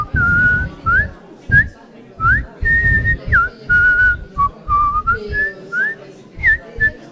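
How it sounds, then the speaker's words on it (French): A person whistles a lively melody with bright pitched phrases and quick slides, at close range, with short breaks between phrases and a low backing sound beneath. "j'adore siffler."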